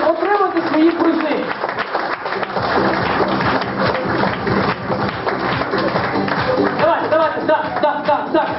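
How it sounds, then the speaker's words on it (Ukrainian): Applause for the FC Kyiv champions at a football league award ceremony, loud continuous clapping from a crowd indoors, with an announcer's voice calling out over it. "Ваші аплодисменти! Підтримуйте хлопців, які боролися і перемогли!"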